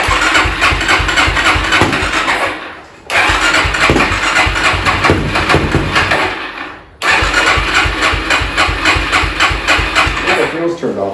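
Suzuki LTZ400 ATV engine running after a carburetor cleaning, a loud close idle with rapid rhythmic pulses, cut off twice by brief dips as it stumbles and restarts, with speech partly mixed in.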